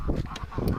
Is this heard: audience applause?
no